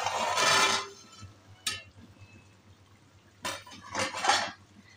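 Metal cooking pot handled in a home kitchen while chicken liver fries, with a loud clattering lid scrape, a sharp clink, then another burst of metallic clanks and rattles, quiet sizzling between.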